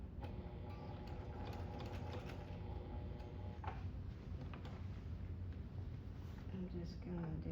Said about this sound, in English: I'm just gonna do probably 1/4 of an inch seam allowance, just sewing down the sides.